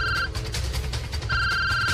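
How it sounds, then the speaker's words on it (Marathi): A telephone rings in a Marathi TV drama scene, its bright repeating electronic trill sounding in two bursts with a short gap between them, loud and close over a low background hum. "तुमचा फोन वाजतोय"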